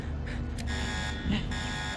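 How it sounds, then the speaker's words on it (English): Spaceship alarm buzzer set off from the ship's core room, a steady droning electronic tone holding without a break across the whole stretch at moderate loudness, with no talk over it. "Rupert has activated the ship alarm from the core room."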